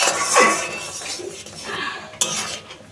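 Jaggery being stirred into chalta (elephant apple) chutney in a pot, with a spoon scraping and clinking against the metal in loose, uneven strokes, close by and one sharper knock near the end.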